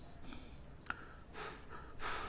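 Breathing in and out through a face mask: close, breathy rushes of air, a few breaths spaced across the moment, with air pushed out around the mask's edges.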